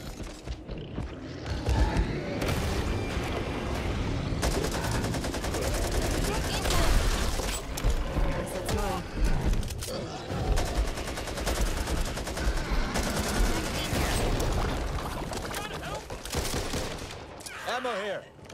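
A light machine gun fires in Back 4 Blood, dense rapid bursts of gunfire with mechanical clatter and creaks running through most of the stretch, loud, with a voice talking at times underneath.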